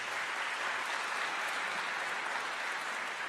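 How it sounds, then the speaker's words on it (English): An audience at a school district address gives a round of applause, a faint, even, steady patter of clapping from a distance, with no voices over it. "Give him a round of applause."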